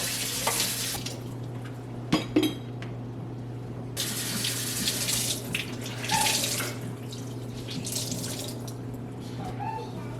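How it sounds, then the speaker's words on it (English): Steady water sloshing and running inside a dishwasher that is not cleaning properly, with a constant hum and a few clinks and splashes. "I can hear water like run through the dishwasher, but it's not getting anything clean."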